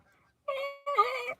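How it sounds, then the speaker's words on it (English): Two short, close bird calls ring out one after the other, clear and tonal against an otherwise quiet background, the second slightly longer than the first. "Okay, birds."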